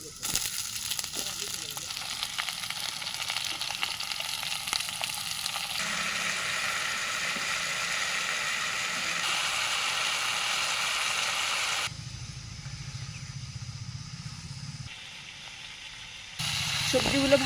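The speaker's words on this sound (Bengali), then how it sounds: "এখন আমরা সবজিগুলোকে তেলের মধ্যে ভেজে নিচ্ছি।" Mixed vegetables frying in oil in a pan for a village-style dish, a steady close sizzle with stirring that shifts in tone and level over a long stretch.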